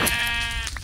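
A single Minecraft sheep bleats once, close and loud, a short wavering baa heard on its own in Sevtech Ages.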